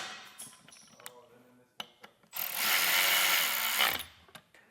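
A powered driver with a 7/32 Allen bit tightens button head cap screws on a Pacbrake Alpha HD Pro air bag suspension kit: a loud, close buzzing run of about a second and a half after clicks and handling noises.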